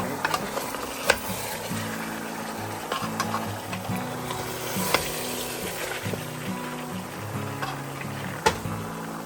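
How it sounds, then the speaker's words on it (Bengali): Beef curry for a large batch being stirred in a pot on the stove, soaked meat releasing its water, giving a steady sizzle with recurring scrapes and clatters of the spoon, close and continuous. "নাড়তেছি"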